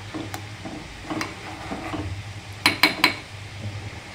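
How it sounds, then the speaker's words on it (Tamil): A ladle stirs boiling tea in a pot at a roadside tea stall, giving soft scraping and bubbling, then three sharp metallic clinks close by near the end. "நம்மதான் போற டீங்க நல்லா சுத்தி கிண்டி விடுவோம்"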